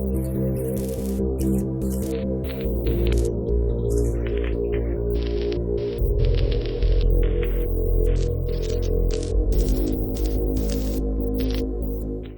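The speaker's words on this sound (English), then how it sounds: "we also have the utility engine that has the bass, which is this oscillator on the bottom, and some noise" Arturia Pigments utility engine plays a deep, steady synth bass oscillator with a layer of hiss-like noise and irregular crackly bursts on top, sustained and loud with no talking.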